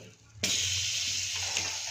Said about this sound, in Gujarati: એમાં આપણે બટર એડ કરી દઈશું